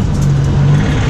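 Steady low engine drone heard from inside a sports car used for motorsport, a continuous rumble filling the cabin at close range with no talk.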